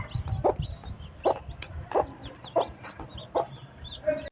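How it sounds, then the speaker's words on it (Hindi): A hen clucks in a room, a few clear, mid-pitched clucks at roughly even intervals, close and moderately loud over a faint low background, with no talking. "लो जी, इस मुर्गी को तो हमने यहाँ पे छोड़ दिया।"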